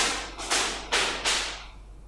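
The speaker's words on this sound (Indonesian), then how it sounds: "ada anak main petasan di sini" Firecrackers set off nearby by children give three sharp, loud bangs roughly every half second, each trailing into a broad hissing decay over a steady low hum.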